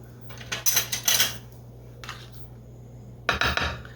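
A metal knife clinks and scrapes against a pie dish while spreading cream cheese filling, several close bright taps and scrapes in short bursts with quiet gaps between.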